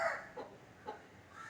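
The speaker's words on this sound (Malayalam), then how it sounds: "ഇനി നമ്മൾ കോഴിക്കുട്ടികളെ ഇടാൻ പോകുന്നു ഗൈസ്" Young chicks let into their enclosure give a few soft, faint clucking chirps spaced apart, with only quiet background around them.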